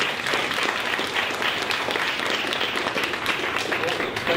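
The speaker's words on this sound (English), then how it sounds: "Let's give one last round of applause." An audience at a storytelling presentation gives a final round of applause, dense, loud, steady clapping from many hands filling the room for several seconds, with faint voices mixed in beneath it.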